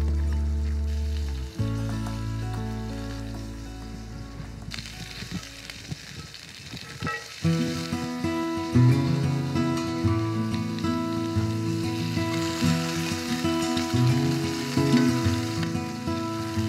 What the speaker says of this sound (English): Saute the carrots until golden and brown the meatballs.